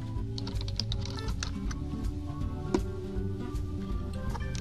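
Fingers typing on a computer keyboard nearby, a quiet stream of irregular clicks and taps lasting a few seconds with no voices.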